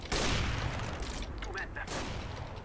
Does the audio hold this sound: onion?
no